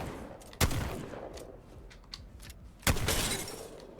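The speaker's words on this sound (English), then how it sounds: "I'm going to start to reload. It's going to reload one at a time. The good thing about it is that I can stop it at any time and just shoot." A Mastiff shotgun fires twice in Apex Legends, each blast a sharp, loud crack followed by a decaying rumble, with faint clicks and mechanical handling sounds in between.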